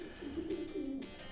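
Racing pigeon cooing in a loft, a low, steady warbling coo repeated in soft waves, close and moderately loud over faint background hiss.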